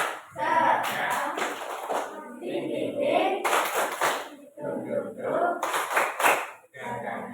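Bursts of group hand clapping in a rhythmic pattern, interleaved with chanting voices and talk, fairly close and loud.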